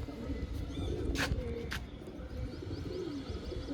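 Pigeons coo in soft, low, burbling calls at a distance, faint under hiss and muffled handling noise, with a few light chirps.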